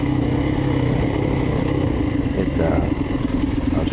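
A dirt bike engine roars loudly throughout during an off-road race on a farm course, the rider working a hot clutch for traction, the rough revving engine close and continuous over the whole stretch.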